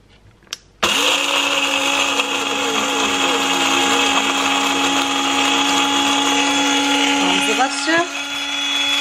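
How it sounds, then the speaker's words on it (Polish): A Blendy GO blender grinds flour at home, starting abruptly after a short quiet moment and running as a loud, steady high-pitched whine for about eight seconds, with a brief pitch wobble near the end. "Zblendowałam sobie, słuchajcie, w domu mąkę."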